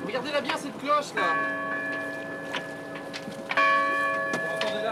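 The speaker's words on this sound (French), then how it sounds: "Regardez-la bien cette cloche là." A bell rings at the departure from Saint-Malo, with several ringing strikes that leave sustained, shimmering tones hanging in the air beneath faint background voices.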